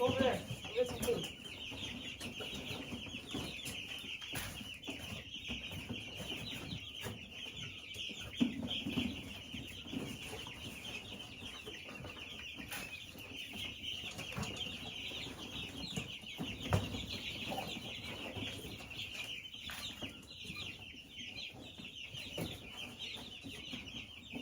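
Backyard chickens clucking and murmuring close by in a muddy pen, a continuous busy chatter with occasional louder squawks, alone without talk.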